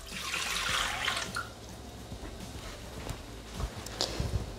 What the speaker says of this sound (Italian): Mettere nel boccale l'acqua,